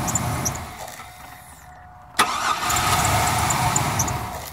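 Cold S10 Blazer engine cranking, then catching with a sharp start and settling into a steady, close idle hum.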